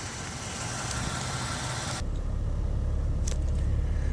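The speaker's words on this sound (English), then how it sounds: "Want you to be able to listen to the transmission shift, the engine go." A 2017 Toyota Sienna L wheelchair van on a highway test drive: a steady engine drone and road rumble fill the cabin, with a brief high tick partway through.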